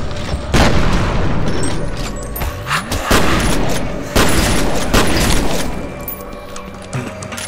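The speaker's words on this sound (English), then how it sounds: "I see you, I'm shooting at you." Gunfire in the F.E.A.R. Extraction Point shooter game comes as loud, sharp blasts and booming impacts, spaced irregularly, with a steady background rumble between shots and no talking.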